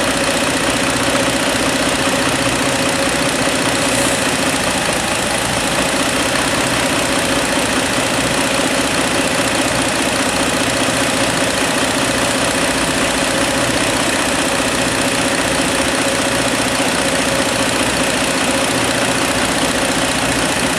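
A Hyundai Santa Fe engine idles steadily, a constant broadband hum with a faint knocking texture that runs unchanged from start to finish while propane is added, with no voices.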